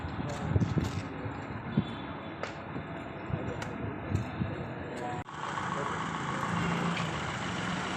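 CNG-fitted Honda Elevate car engine idling with a low, steady hum and a few sharp knocks, partly under nearby talk, growing a little louder and fuller after a brief dip midway.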